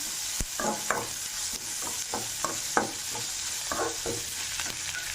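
Dal is stirred into hot oil and fried in a pan for a Rayalaseema-style brinjal fry, producing a steady sizzle with a series of scraping stirring strokes, close up and without speech.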